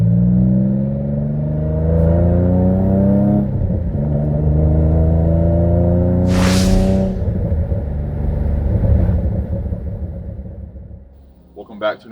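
An Infiniti G35 Coupe with a six-speed manual and a single-piece aluminum driveshaft pulls hard under loud, rising engine drone through the gears, with a brief shift break and someone talking over it.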